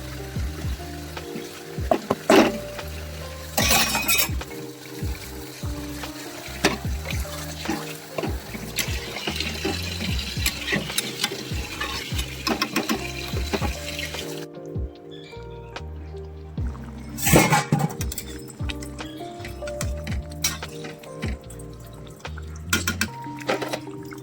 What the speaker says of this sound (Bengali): এবারে প্রয়োজন মতন গরম জল দিয়ে মাছগুলো দিয়ে একটু ঢাকা দিয়ে ফোটাতে